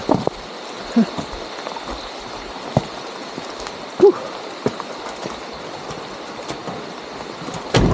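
Steady rain hiss fills the background, with scattered louder drops or knocks punctuating the even wash of noise.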